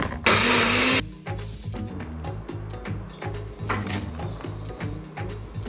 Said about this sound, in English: Add your cooked kale to a blender